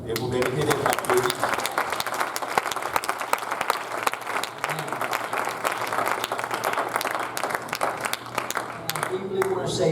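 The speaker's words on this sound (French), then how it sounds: "Et vous méritez d'être applaudis." Loud sustained applause from a church audience at a sermon, dense clapping running the whole time with crowd noise beneath and a voice speaking over it.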